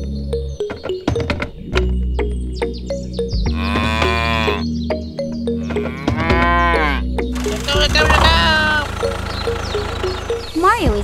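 A cartoon cow moos several times in drawn-out, harmonic calls, loud and close, over a busy backdrop of music and thumping effects.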